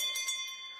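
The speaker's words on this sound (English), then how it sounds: "We ring the bell to remind us that this is the time that we get to listen" A hand bell rung once or twice during a church gathering, a bright ringing tone that decays steadily, close and clear with no talk over it.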